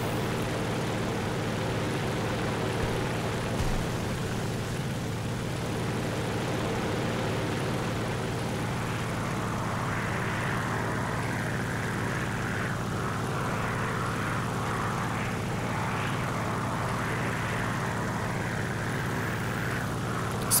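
A Ki-44 fighter's propeller engine drones in a combat flight video game during aerial dogfighting, a steady, unbroken hum that stays close and constant throughout and rises slightly in intensity partway through.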